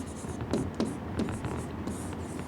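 A name is handwritten in an accounting ledger, a pen scratching softly in short strokes, close and quiet.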